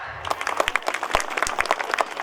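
Audience applause at a school event erupts and continues as a dense, steady patter of many hands clapping, loud and close, with no one speaking over it.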